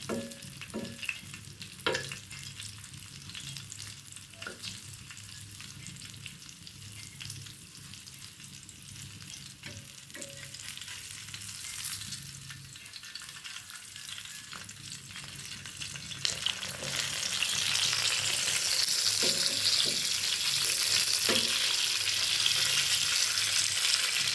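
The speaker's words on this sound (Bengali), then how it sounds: "আমি একটু বেশি কড়া মাছ ভাজা পছন্দ করি" Pabda fish fries until crispy in a pan with a continuous sizzle, broken by occasional ticks and stirring scrapes, then swelling into a louder, brighter crackle for the final stretch.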